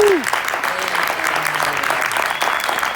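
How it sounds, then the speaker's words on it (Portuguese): An audience at a film debate breaks into sustained applause, broad and fairly loud, with a brief voice and faint murmurs at the start. "Aplausos, por favor."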